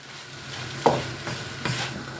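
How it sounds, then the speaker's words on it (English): A quick final stir of fried food seasoned with Five Guys Cajun seasoning, with a steady sizzle and a couple of brief scraping stirs in the pan. "Quick final mix around"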